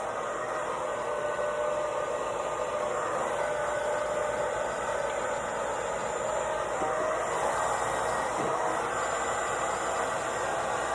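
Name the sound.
hair dryer with diffuser drying curly hair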